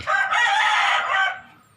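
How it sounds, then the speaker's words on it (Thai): A rooster crows once, loud and close, a long full call that holds steady then trails off. "ตัวนี้ได้ไก่ขันหน่อย"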